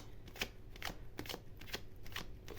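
Tarot cards are shuffled and drawn, soft papery riffles and snaps repeating roughly every half second, close and quiet, with no talk over them.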